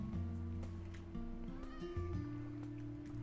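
A cat meows a few times in Minecraft, the mews sitting over steady blocky background music at moderate level.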